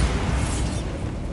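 A Bombarda spell detonates in Hogwarts Legacy. A single heavy, broadband blast is loud from the start and decays over about a second, alone with no talk.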